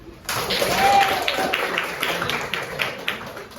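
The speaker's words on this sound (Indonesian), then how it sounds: "Coba tepuk tangan dulu." A class of school students claps in a steady rhythm of repeated claps over a room murmur, with a voice speaking at the start.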